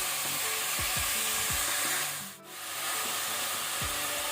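Cleaned mutton fries in ginger garlic paste over a medium-high flame, a continuous close sizzle broken by several rubbing, scraping strokes of a spoon, with one short dip in the noise partway through.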